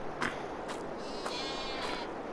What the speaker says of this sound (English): Now we have sheep.